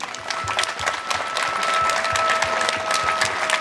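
A crowd applauds steadily, many hands clapping at once in a dense, sustained round with no voices standing out.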